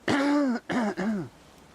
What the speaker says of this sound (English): Excuse me, you want to clear my throat.